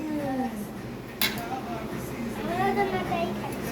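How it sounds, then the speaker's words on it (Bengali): Rice is served onto plates at a family Sunday meal, with light clinks of a spoon against dishes and one sharp clatter, under the continuous chatter of an adult and children. "এখন আমি রাইসগুলো বাড়ছি।"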